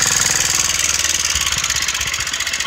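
A motorcycle engine runs steadily at close range, a loud, even, throbbing rumble with rapid regular pulses and a wind-like rush layered over it throughout.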